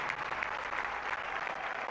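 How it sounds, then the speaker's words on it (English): A crowd at a Zambian independence anniversary celebration applauds for the freedom fighters. The clapping is steady and fairly distant, continuing throughout the brief stretch. "Let's clap for them."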